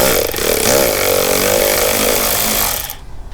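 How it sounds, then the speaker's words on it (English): An electric ratchet whirs steadily close by while backing out the air filter box screws on a 2019 Golf Alltrack, a loud continuous motor drone that cuts off abruptly near the end. "I'm going to use an electric ratchet, but you don't need to."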